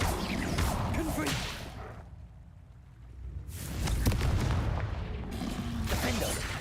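Blasting spells in a wizard video game, sharp whooshing cracks and explosive bursts in two loud flurries separated by a short quieter gap.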